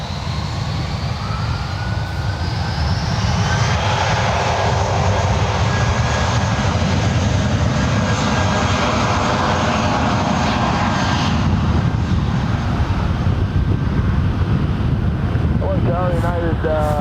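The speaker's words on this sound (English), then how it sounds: "It's an A319, 14 years of age, delivered in May of 2007. Now rolling down one right." Jet engine roar of a United Airbus A319, 14 years old, rolling down runway 1 right at San Francisco International Airport, a loud steady broadband rumble with rising whine building and sustained throughout, distant voices faintly under it.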